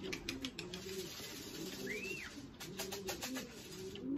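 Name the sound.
racing pigeons cooing while drinking from a gutter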